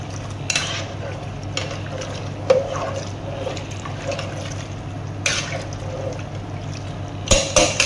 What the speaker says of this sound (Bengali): ভিতরে দিলাম জল, আইডিয়া করে। তারপরে আবার একটা নাড়া দিয়ে দিলাম